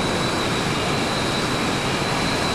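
Steady, loud engine roar from a fighter plane in Battlefield 1942 during a dogfight, a constant broadband drone with a thin high whine running through it and no pauses.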